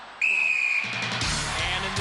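A referee's whistle blasts once, loud and sustained, to start the celebrity wall race in Gladiators, followed by a swelling arena crowd roar.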